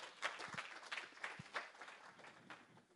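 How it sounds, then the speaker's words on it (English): A small audience applauds at an event on gastronomy tourism. The clapping is steady, soft and fairly distant, with no talking. "And one more applause"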